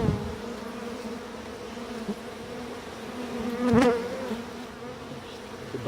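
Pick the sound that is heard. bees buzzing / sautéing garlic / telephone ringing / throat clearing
bees buzzing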